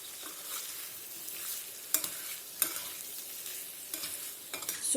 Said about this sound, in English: So cook this along with the potatoes for about a minute.